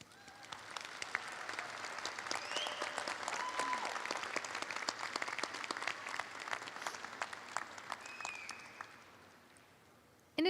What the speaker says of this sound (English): Graduates, please join me in a round of applause for your family and friends.